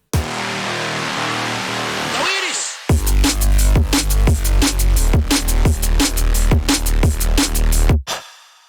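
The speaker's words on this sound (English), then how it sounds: "I'm going to show you how to make a Neuro bass reese that sounds like this" Crispy neuro bass reese synthesized in Serum, heard as a loud, gritty, sustained bass tone, then a hard-cut rhythmic pattern of punchy bass hits pulsing in steady succession before stopping abruptly.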